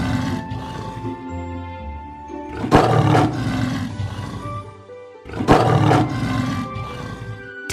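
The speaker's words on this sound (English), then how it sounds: "Tiger." Tiger roars in a children's zoo animal sounds game: two loud, raspy roars a few seconds apart, each bursting out and trailing into low rumbling growls, close and alone.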